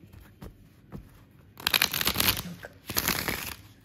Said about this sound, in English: One more time, I'll show you the shuffling.